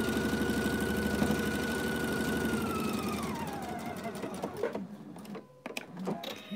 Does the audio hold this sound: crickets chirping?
no